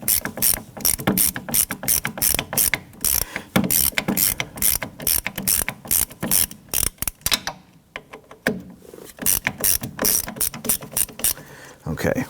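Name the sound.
loosening brake bolts with a ratchet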